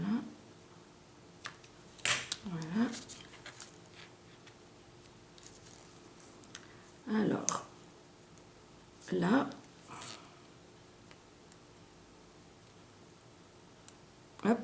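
Scissors snip paper for a Christmas album cover in a few short bursts of crisp cutting clicks, spaced apart against a quiet room, with soft talk in between.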